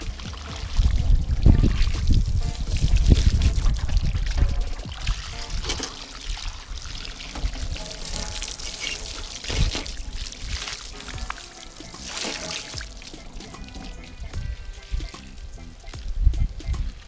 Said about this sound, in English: Give it a good little rinse